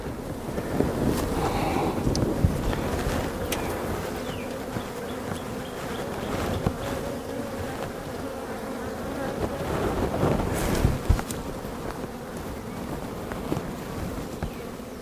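Honeybees buzzing in an opened hive, a dense, continuous droning hum up close, with wind buffeting the microphone and a few louder swells as bees pass near.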